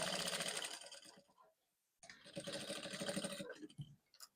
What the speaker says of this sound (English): Stitch all the way to that point and then half inch further away from that point.